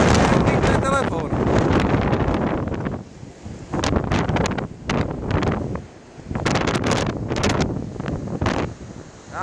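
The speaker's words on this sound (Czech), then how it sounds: "Ale vítr tak 100 km v hodině." Strong wind of about 100 km per hour buffets the microphone in loud, gusty bursts, with voices talking intermittently over the roar.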